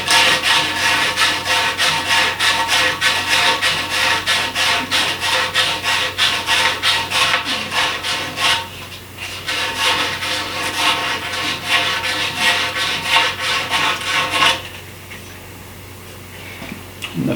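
Twenty-five-year-old water softener piping is scrubbed free of surface corrosion with rapid, rhythmic rasping strokes, loud and close, pausing briefly midway and fading to quiet scraping near the end.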